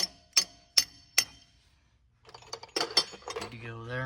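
A hammer gives three sharp metallic taps, driving a shock into a Chevy Silverado 2500HD Duramax, then after a pause someone speaks.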